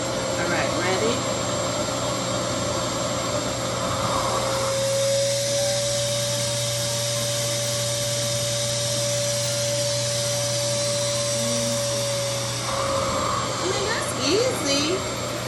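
Revair hair dryer running on a low setting, a loud steady whoosh of air with a sustained whine, holding constant throughout while a person talks over it near the start and end.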